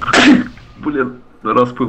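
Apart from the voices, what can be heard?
sneeze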